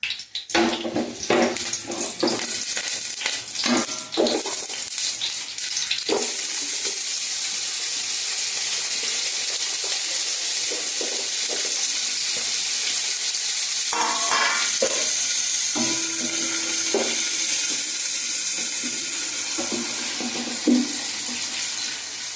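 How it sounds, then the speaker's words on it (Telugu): Onions and green chillies frying in hot oil for a chicken curry, a steady bright sizzle with scattered clinks and scraping stirs, louder bursts of stirring near the start and midway. "ఆయిల్ వేడెక్కిన తర్వాత ఉల్లిపాయలు పచ్చిమిరపకాయలు వేసి వేయించుకుందాము"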